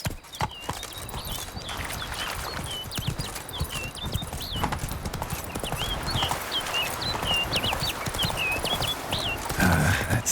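Horse hooves clip-clop steadily at a gallop in The Witcher 3, a brisk continuous rhythm close by throughout, with a short neigh near the end.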